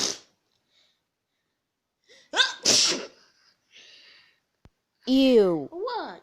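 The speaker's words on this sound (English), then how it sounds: "The diseased sneeze." A young person gives an exaggerated, wet-sounding mock diseased sneeze, close and loud, with short breathy sounds before it and brief exclamations of disgust and surprise afterward.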